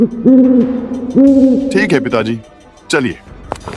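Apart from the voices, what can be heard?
owl hooting at night in a forest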